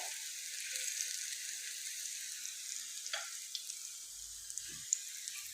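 Potato cutlets frying gently in oil on a low flame, a faint, steady, airy sizzle with a few small pops and a soft low thump near the end.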